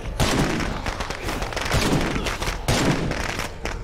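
Shotgun fire in a zombie-shooting video game: a rapid run of loud, booming blasts, roughly five or six shots in quick succession, close and punchy with little pause between them.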